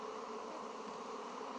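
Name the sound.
honey bees buzzing in a hive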